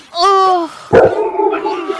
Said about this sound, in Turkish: Köpekmiş